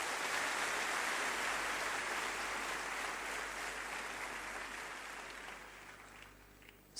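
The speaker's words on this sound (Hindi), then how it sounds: "मेरी बेटी हिमांशी और मेरे बेटे गर्व के लिए एक बार फिर जोरदार तालियां हो" An audience applauds at a speech event, a dense, steady wash of clapping that slowly fades over several seconds, heard at a moderate distance.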